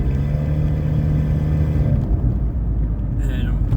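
A Chevrolet HHR with an exhaust leak at the manifold drones loudly while driving, a low rumbling engine note that is steady and then eases slightly, with road noise throughout.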